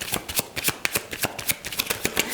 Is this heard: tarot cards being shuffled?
yes